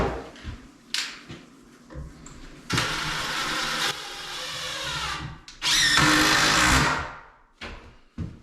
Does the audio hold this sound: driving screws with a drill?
yes